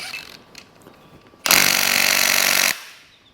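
Impact wrench buzzing on engine cylinder head bolts during a Hemi engine teardown, one loud sustained burst of a bit over a second after some quiet clinking, then stopping abruptly.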